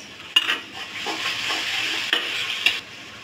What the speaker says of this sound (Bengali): প্রথমে রসুন বাটা দিলাম 2 চামচ